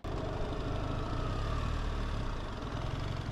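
BMW R 1300 GS Trophy motorcycle engine running steadily on a small country road, a continuous low, rough drone held at an even level throughout without any talking.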